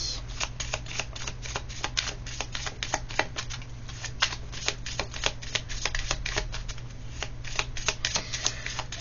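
Tarot cards being shuffled continuously for several seconds, a dense run of crisp riffling and flicking card sounds, close and clear, with no talking over them.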